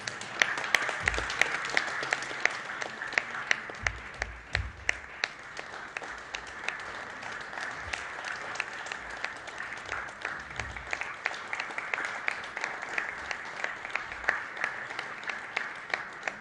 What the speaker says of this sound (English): We can continue the claps going.